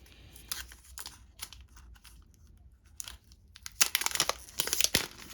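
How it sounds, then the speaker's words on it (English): Packaging of a Ring video doorbell bundle is unwrapped, with soft crinkling and rustling of plastic and paper that grows into louder, sharper crackles near the end. "Once we unwrap this, let's unwrap it."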